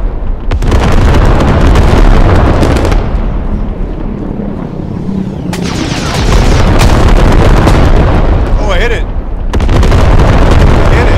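A loud rocket explosion in a video game battle, with heavy booming blasts and sustained rumbling debris noise across the whole stretch, and a voice briefly heard in between.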